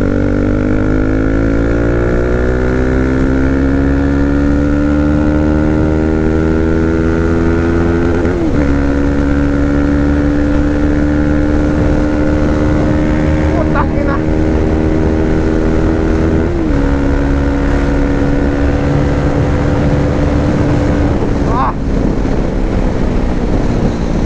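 A KTM RC390 sport motorcycle at top speed on the rev limiter, its engine droning loud and close with rising and falling pitch through gear shifts, heavy wind buffeting the rider's microphone throughout.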